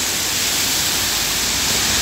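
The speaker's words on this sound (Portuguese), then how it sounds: "Água descendo, chuva mais leve." Rainwater pours down steadily during a lighter rain in Porto Alegre, a dense, continuous rushing hiss heard up close and loud with no other sounds.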